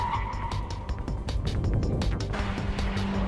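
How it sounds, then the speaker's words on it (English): Honda Type R car braking hard from about 95 mph, a dense roar of engine and tire noise that swells and stays loud throughout, with a faint squeal hinting at the tires' limit. "now, the full braking test from about 95 miles per hour"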